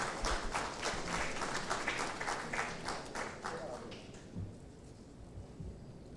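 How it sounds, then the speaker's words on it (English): Applause from the audience at a panel discussion, with rapid claps that sound distant and slightly muffled, fading after about four seconds into quiet room noise. "Let's give a big round of applause, ladies and gentlemen."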